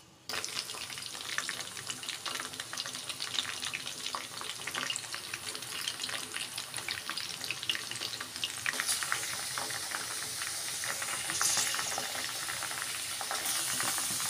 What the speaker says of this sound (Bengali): এটা এবারে এখন ফুটবে, ফুটে অ্যালোভেরাটা যখন মানে পুরো তেলে সিদ্ধ হয়ে যাবে